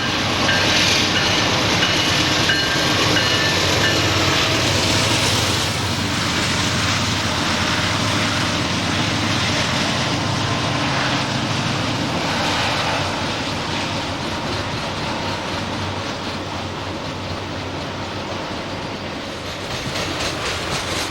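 A Triple Crown RoadRailer freight train leaves the 3,600-foot Allegheny Tunnel at Gallitzin, Pennsylvania, in the early morning. A loud, continuous roar with wheel clatter and some squealing gradually eases.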